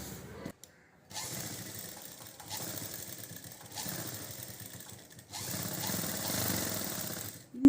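A sewing machine stitches the neckline of a jacket lining in several bursts of steady, close mechanical whirring, separated by brief pauses.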